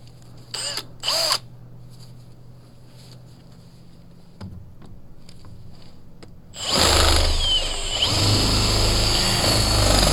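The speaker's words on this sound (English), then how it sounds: "I'm going to go ahead and put those screws in." A power drill whirs up sharply and runs loud and continuous through the second half while screws are driven during a building project, preceded by a few brief tool bursts and quieter handling noises.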